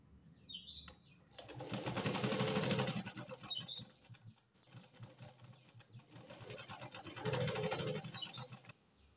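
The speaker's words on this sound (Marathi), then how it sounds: "आता मी त्याला एका साईडने शिलाई घालून घेणार आहे, म्हणजे दुमडून घेणार आहे." A sewing machine runs two separate stitching bursts along one side of a piping strip for a lined katori blouse, each a few seconds of quiet whirring. Faint bird chirps come in during the pauses.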